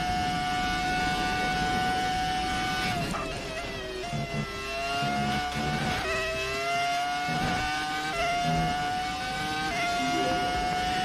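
Ferrari F2004 Formula 1 car in a racing video game, its high-pitched V10 screaming steadily through gear changes, rising and dropping in pitch with a few sharp downshifts, loud and continuous throughout.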